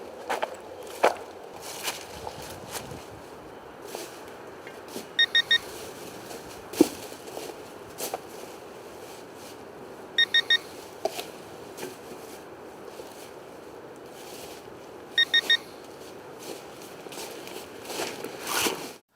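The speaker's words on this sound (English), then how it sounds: "the ProPointer AT will begin emitting warning chirps after 5 minutes of being on without a button" Short bursts of high electronic chirps from a Garrett Pro-Pointer AT pinpointer left switched on, sounding in brief clusters roughly every five seconds over quiet background noise, with faint rustles and knocks between.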